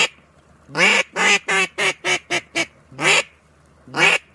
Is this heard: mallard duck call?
yes